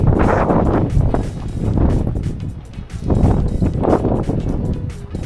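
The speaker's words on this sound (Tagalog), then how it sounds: "Medyo mahangin." Strong wind buffets the microphone in loud, rumbling gusts that swell and fade, with no speech over it.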